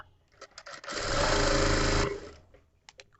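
An electric sewing machine runs a pressed seam on a katori blouse: a single steady, close whir lasting about a second, framed by softer clicks and fabric handling before and after.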